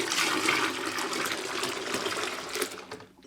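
Water pours steadily into a home-brewing fermenter to top it up by a gallon, a continuous close splashing rush that fades out at the very end.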